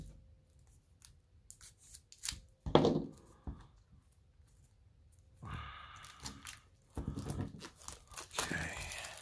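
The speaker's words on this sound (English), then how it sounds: "There it is, still in the original shrink wrap." Shrink wrap is torn and crinkled off a card deck for the Traveller customizable card game in several close, sharp bursts of plastic rustling and ripping separated by short quiet gaps.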